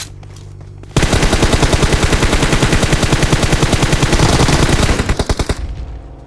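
Loud, close machine-gun fire in a shooting video game, a long unbroken rapid burst of shots that runs for several seconds before cutting off and fading.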